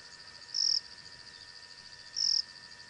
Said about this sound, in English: Here's some of the frogs starting to kick off their calls as well.